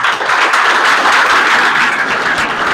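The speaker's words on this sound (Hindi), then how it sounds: "सबसे पहले इनके लिए ताली बजाइए।" Students in a school classroom at an Uttar Pradesh intermediate college clap together in loud, dense, sustained applause that fills the whole moment.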